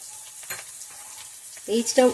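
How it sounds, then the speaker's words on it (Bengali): Ginger paste sizzling with spices in a pan for a potato, eggplant and bottle-gourd-stem curry, a soft steady frying hiss close by, with a voice speaking briefly near the end. "কষা হয়ে গেছে, এবার আমি দিয়ে দেবো আদা বাটা"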